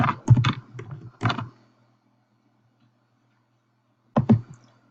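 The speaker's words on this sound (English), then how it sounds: "type in your last name" A last name is typed on a computer keyboard in two quick bursts of close, crisp key clicks, followed by a long pause and then a final short flurry of taps, with no talking.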